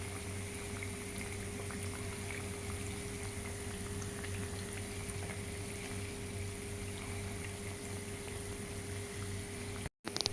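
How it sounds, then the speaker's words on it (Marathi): Donuts frying in a pan of hot oil, a steady, even bubbling hiss that continues without pause for the whole stretch, with a brief cut-out at the very end. "आपले डोनट तेलामध्ये छानपैकी तळून झालेले आहेत"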